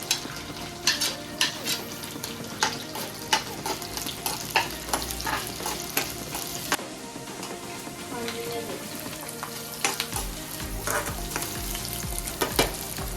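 Three medium onions frying in a pan for kadai paneer with dried red chillies, giving a steady, close crackling sizzle broken by regular scraping stirs and clinks throughout.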